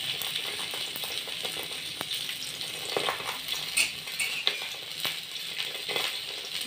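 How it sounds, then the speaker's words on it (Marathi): Food roasts crisp in a pan with a dense, steady sizzle and crackle. Light scrapes and taps of a utensil come and go, close and fairly quiet with no voices. "आणि खरपूस असे भाजून घेऊया।"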